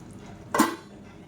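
Egg gravy being stirred in a pot: one brief metallic clink of a utensil against the pot, close and short, in otherwise quiet surroundings.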